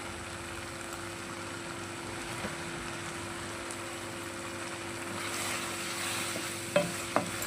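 Aloo masala with chopped coriander cooks gently in a pan with a soft, continuous sizzle at low volume. Two light utensil taps come near the end.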